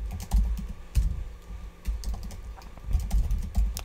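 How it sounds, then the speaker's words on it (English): Rapid clicking of keys on a computer keyboard as an email address is typed, with close, irregular bursts of keystrokes and brief pauses between them, no voices. "So first of all, we can type up our email."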